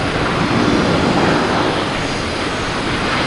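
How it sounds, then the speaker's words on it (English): A Lufthansa Airbus A340 jet heading out at Boston Logan airport produces a loud, steady roar of broadband engine noise that holds evenly throughout, with no voices. "There's the A340, it's going to be heading out."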